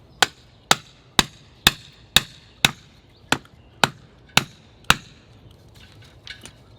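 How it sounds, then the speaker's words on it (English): About ten sharp metallic hammer blows drive stakes into the ground at a steady, deliberate pace, each ringing briefly, then stop, leaving a few faint taps and quiet. "give me the hammer. This one's not driven in enough"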